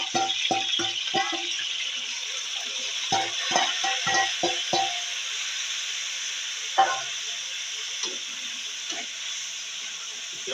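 Chopped onion hitting hot oil for nargisi kofta gives a steady frying hiss. Scattered clinks and rattles from a spoon or pan come in bursts early on, then more sparsely, with no talk.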